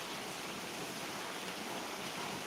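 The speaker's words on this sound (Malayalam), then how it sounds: "നല്ല സൂപ്പർ മഴയാണ് കണ്ടോ നല്ല കിടുമഴ" Steady summer rain falls in a continuous, even hiss, a dense wash of drops with no pauses or voices.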